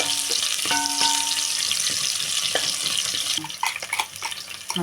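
Onion sizzling in hot oil in a pan while cooking soybean pulao, a continuous crackling fry with occasional stirring clatter and a couple of brief tonal clinks.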